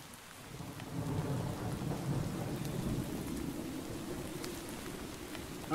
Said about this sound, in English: Have I encountered a storm and lightning?